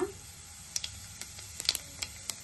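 Cumin seeds sizzling in two spoons of hot oil in a kadai, a faint steady hiss broken by small sharp pops and crackles scattered through the moment.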